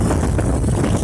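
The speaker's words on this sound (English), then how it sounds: "The wind" Strong wind buffets the microphone during a small drone flight in a loud, continuous rumbling roar that fills the brief moment, with no voices.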